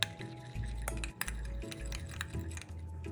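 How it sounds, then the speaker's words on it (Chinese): Eggs, cornstarch, salt, pepper and water are beaten in a mixing bowl, making rapid rhythmic clinks and scrapes of utensil against the bowl, close and continuous. "加入鸡蛋内一起打散"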